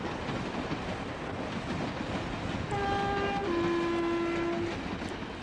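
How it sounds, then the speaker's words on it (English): Train passing at a distance through steady rumbling noise, with a sustained horn note sounding partway through, no voices. "See the train going by."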